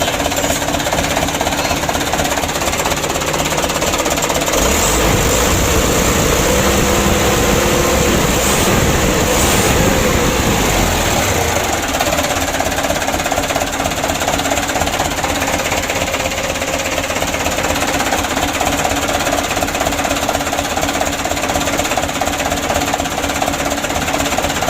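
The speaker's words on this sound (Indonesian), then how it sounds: "Ya bersyukur saja untuk mesinnya ini bisa hidup." A car engine that was submerged in floodwater and has since been repaired runs continuously at close range with a loud, rattling, knocking clatter that shifts in character midway.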